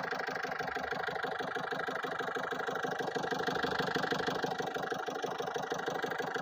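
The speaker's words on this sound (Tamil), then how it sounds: "இன்ஜின் சவுண்டும் பார்த்துக்கோங்க." A 2008 Ford Fiesta diesel engine idles steadily, heard close with its bonnet open, giving an even rhythmic clatter that holds constant throughout with no talking.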